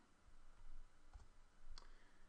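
A computer mouse gives a couple of quiet, sharp clicks about half a second apart over a soft room background, faint and close with no speech.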